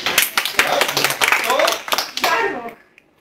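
At a Star Trek fan convention improv show, a live audience breaks into scattered clapping mixed with laughter and chatter, loud and close, before fading out near the end.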